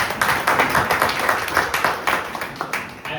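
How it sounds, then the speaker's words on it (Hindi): A group gathered at a computer institute's batch farewell event claps together, the claps landing in an uneven, lively rhythm close by. "आप संस्थान को एक बार जोरदार ताली से स्वागत करें"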